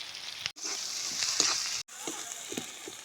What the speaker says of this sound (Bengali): টমেট দিয়ে একটু ভালো করে কষায় নেবো